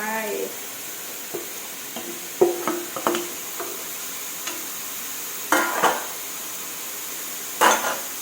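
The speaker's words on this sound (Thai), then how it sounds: "ผัดมะเขือเทศให้พอสุกค่ะ" Minced pork and tomatoes stir-fried in a pan for a wide-noodle rad na dish: a soft sizzle under scattered spatula scrapes and sharp metallic clinks, several in quick bursts and then isolated.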